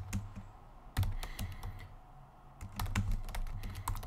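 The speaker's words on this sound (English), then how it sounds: "Now I'm going to type in my commit message here." Fingers type a commit message on a computer keyboard, irregular clusters of close, crisp key clicks with short pauses between bursts.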